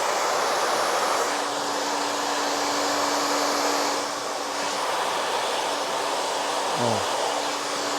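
A hair dryer blows continuously during a haircut, with a loud, steady whooshing roar and a faint motor hum underneath.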